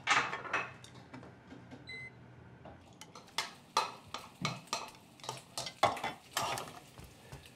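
Food heated in a pot on a home stove: a spoon scrapes and clinks against the metal pot in irregular bursts over a soft background sizzle, close and clear.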